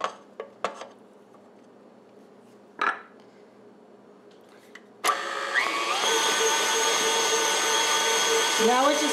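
Electric mixer whirring steadily through red velvet brownie batter, starting after a few clinks and taps of utensils on a bowl, the motor drone loud and continuous to the end.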